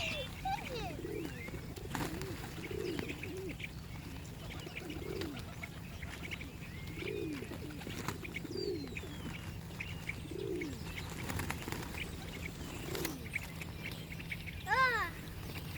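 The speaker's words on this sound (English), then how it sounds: "Mommy, I see this little weird looking pigeon." A dove coos at a shoreline, soft low repeated coos spaced a couple of seconds apart under faint background ambience, with occasional chirps from other birds and a brief higher call near the end.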